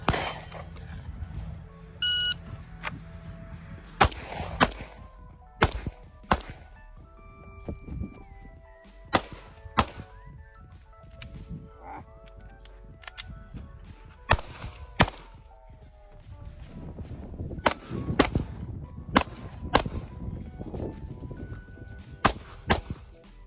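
Sharp handgun shots ring out during a Scrambler shooting-on-the-move drill in Southern California rain, landing as loud single cracks and quick pairs spread across the run, with quieter handling noise between them.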